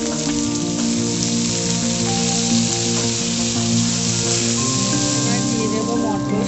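Chopped onion hits hot oil with fried garlic paste in a pan, giving a loud, steady sizzle and crackle that runs throughout, with faint background hum.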